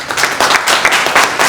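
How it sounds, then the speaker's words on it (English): Audience applause fills the room at a mortgage initiative launch event, a loud, steady wash of many hands clapping with no voices over it. "Clap it up for that."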